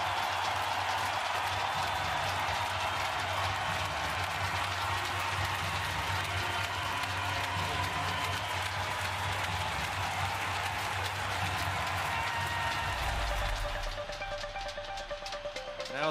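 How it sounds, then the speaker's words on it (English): Sustained crowd applause in an arena as spectators salute the Russian winners after the men's Winter Universiade 2019 hockey gold medal final against Sweden in Krasnoyarsk, a continuous roar of clapping that eases near the end. "this great crowd saluting the Russian victors, who will salute them right there."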